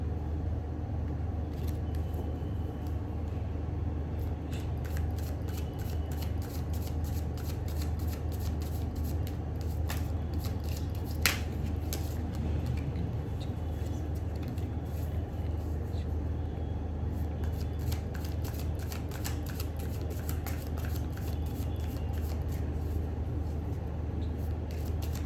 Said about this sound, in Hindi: let me shuffle the card for my viewers